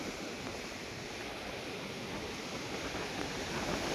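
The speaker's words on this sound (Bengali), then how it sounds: "এখন সম্পূর্ণ ভরা কোটাল জল আর জল কিভাবে তুলে আসছে দেখো" Sea waves surge in at high spring tide on Tajpur beach, a dense, constant roar of surf mixed with wind buffeting the microphone.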